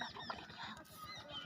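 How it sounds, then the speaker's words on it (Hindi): A bird in a Hindi children's story gives harsh, honking calls like a goose, repeated quickly over a second and a half, faint but close and with no other sound around them. "चिड़िया की आवाज़ सुनकर ग्वाला खेत पर पहुंचा"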